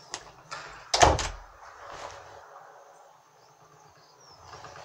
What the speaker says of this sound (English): This door is so annoying. It just doesn't stay closed.